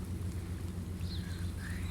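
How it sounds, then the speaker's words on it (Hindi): Steady rain falls outdoors over a vegetable garden in Saudi Arabia, a continuous even patter with a low rumbling bed, no voices over it. "ये बारिश हरदम नहीं आते, 2 साल की बाद बारिश हुआ।"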